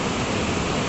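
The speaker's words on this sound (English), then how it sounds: "you cannot walk, and you can sit here and enjoy the waterfall" Kuske waterfall in Canacona, South Goa, India: a steady, loud roar of falling water filling the whole span, broadband and unbroken with no voices over it.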